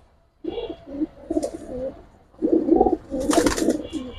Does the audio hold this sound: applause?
no